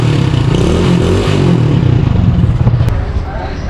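A motorcycle engine running after a single kick start, a loud, close, uneven chugging idle with rattly clatter, fading slightly at the end, with a voice speaking over it.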